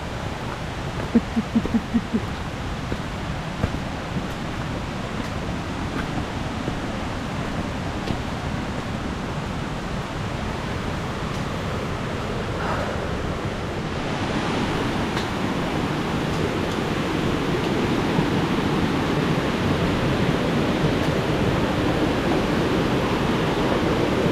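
Kroke E-Dok waterfall in Saraburi, at its first tier, gives a continuous rushing wash of falling water that grows a little louder and fuller partway through, with no voices.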